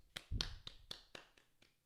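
A single person clapping, about eight crisp hand claps in a loose, slowing rhythm, close and fairly quiet, with a low thump near the start.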